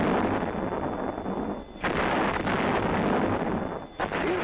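Machine-gun fire in a defensive infantry battle, a dense, continuous roar of rapid shots and blasts, broken by two brief lulls, loud and harsh as if heard through wind-buffeted recording.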